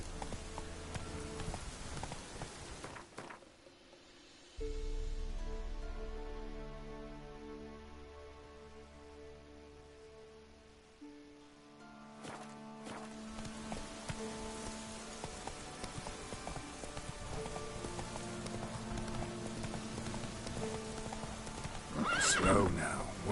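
A horse gallops in The Witcher 3, its hooves clip-clopping in a steady rhythm, with a neigh and game music beneath and occasional speech over it.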